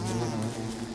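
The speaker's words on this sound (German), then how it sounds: "Doch, du bist eine Biene. Oh Gott, und ein Bienenstock." A bee buzzes steadily and close in the video game Don't Starve, a continuous droning hum with slight wavering and no voices.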